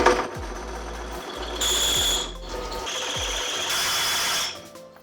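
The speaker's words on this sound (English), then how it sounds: "Drilling out that axle flange just did not go well." A drill bit bores into the flange of a wheel axle, with loud bursts of high whining grind that start and stop, each run trailing off as the motor spins down.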